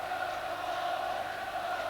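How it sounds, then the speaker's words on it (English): A large stadium crowd at a UEFA Cup final applauds the Dundee United players, a steady roar of clapping and voices from a distance that holds level throughout. "A lot of sympathetic applause for the Dundee United players."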